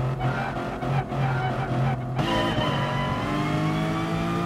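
The KFC Lexus race car in GT Sport at Suzuka, its engine loud and droning, the pitch climbing as it revs up through a gear change, alone with no talking.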